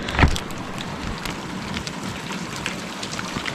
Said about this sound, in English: Pacific Northwest rain has returned with a vengeance.